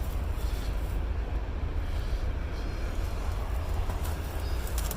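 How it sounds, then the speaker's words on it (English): A train rumbles past at a campsite, a steady low broadband roar lasting throughout with faint bird calls above it and no talk. "There's the train."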